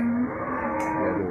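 A cow moos in a low, drawn-out call, close and loud, over the busy background hum of a cattle market in Ambulu, Indonesia.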